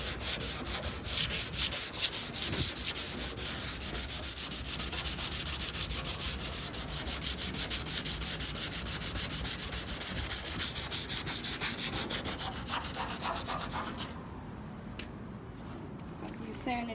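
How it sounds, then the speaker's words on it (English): Wet sandpaper rubbing back and forth over a car body panel to remove red overspray, a steady, loud rasping scrub close up that continues for most of the stretch before easing off near the end. "Sand it down."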